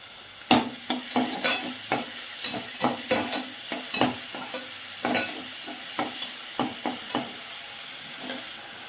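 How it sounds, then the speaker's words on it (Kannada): Onion fries in a couple of spoons of oil for a South Indian okra saru while a spoon stirs it, giving a steady sizzle broken by a regular series of close scraping stirs. "2 ಸ್ಪೂನ್ ಎಣ್ಣೆ ಹಾಕ್ಕೊಳ್ಳಿ. ಚಿಟ್ಕೊಂಡಿರೋ ಒಂದು ಈರುಳ್ಳಿನ ಫ್ರೈ ಮಾಡ್ಕೊಳ್ಳಿ."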